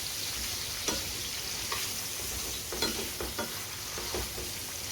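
Peppers and onions frying in a single pan, a steady close sizzle broken by occasional scrape and stir clicks, with no voices.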